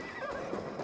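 A horse whinnies in a short, wavering burst, set against a dense layer of background game sound in Assassin's Creed: Valhalla during the Siege of Paris.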